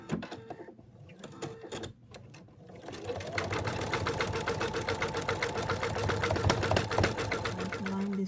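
A sewing machine stitching the end pieces of an in-the-hoop zip top bag runs in a steady, fast mechanical rhythm that starts after a few seconds of quieter handling and holds close and loud to the end.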